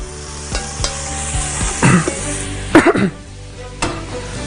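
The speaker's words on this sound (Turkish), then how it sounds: "Şimdi etim tencerede yavaş yavaş pişmeye başlayacak." Meat sizzles steadily in a hot pot, with a few scraping stirs and clanks of a utensil against the metal, close up and fairly loud.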